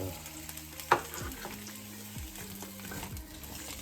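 Chopped onion and tomato fry in a tawa pan with a steady, quiet sizzle. A single sharp clatter sounds near the start, and a spoon stirs and scrapes through the rest. No one speaks.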